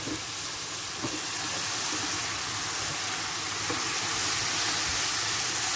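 Onions and shallot sizzle in a pan with melting lardons, a steady, loud broadband hiss of frying fat that holds unbroken with faint crackles throughout.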